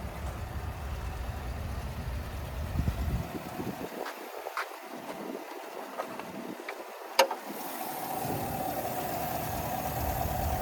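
A 2023 Chevrolet Silverado 1500 ZR2's 6.2-liter V8 idles with a steady, fairly quiet low rumble, broken by a single sharp click partway through.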